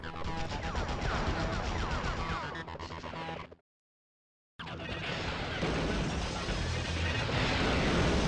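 Missile explosions in the video game Spider-Man 2000, dense booming blasts and crackling debris, loud and continuous, cut by a full second of silence before the barrage resumes.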